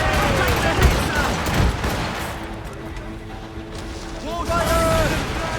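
Ship cannons firing in a naval battle in the video game Assassin's Creed Rogue: heavy booming shots and crashing impacts over a churning battle din, with shouting crew voices in the background.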